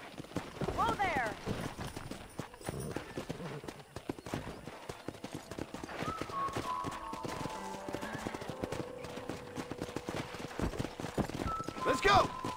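Horse hooves galloping in Red Dead Redemption, a steady rhythmic clip-clop running throughout with a horse's whinny early on, music and a voice talking over it.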